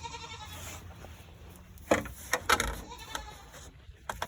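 Goats on a farm bleat at feeding time, several short calls in a cluster at moderate distance over a steady outdoor hum, with rustling in between.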